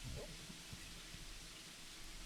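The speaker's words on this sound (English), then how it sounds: "as you can hear, the rain is just pouring the fuck down" Heavy rain pouring down outdoors, a steady broadband wash of noise with low rumbling patches and a few soft thuds near the start, continuous and fairly quiet throughout.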